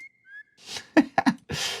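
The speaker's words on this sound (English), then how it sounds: "And then also this cool whistle noise." A short synthesized whistle phrase from a sample played in Serum, a thin glide followed by a few quick chirpy notes and a breathy tail, fairly quiet and alone.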